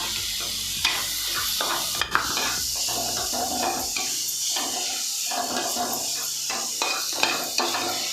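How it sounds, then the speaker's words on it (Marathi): Prawn mince stirred in a pan over medium heat, a spatula scraping and tapping the pan in an irregular rhythm over a soft continuous sizzle, with a few sharp clinks. "आणि कोळंबी खिमा. हा ढवळत ढवळत राहायचा"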